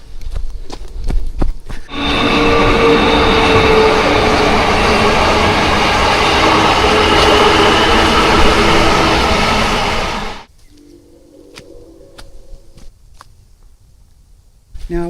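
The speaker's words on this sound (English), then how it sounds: "And I can hear a train coming." A train passes a walking path, a loud, steady roar of rushing wheels and carriages lasting about eight seconds before cutting off, followed by quieter footsteps and a faint short tone.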